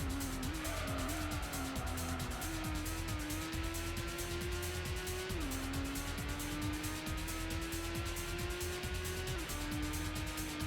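A race car in the 1997 PlayStation game Gran Turismo drones with a steady engine whine during a license trial, its pitch dropping sharply under braking with tire squeal, loud and continuous throughout.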